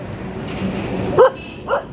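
A German shepherd gives two short sharp barks about half a second apart, fairly close, over a low background murmur.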